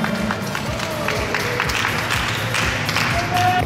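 Applause and crowd noise on a commercial shoot set, a dense continuous patter of clapping under lively chatter and voices.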